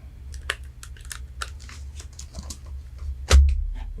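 Rapid, uneven clicking of keys on a computer keyboard during a live gaming stream, close and fairly soft over a low background hum, ending with a heavier thump.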